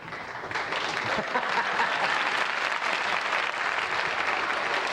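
A studio audience on a late-night television talk show applauds in a steady, dense wash of clapping that swells slightly after the first half-second and holds evenly throughout.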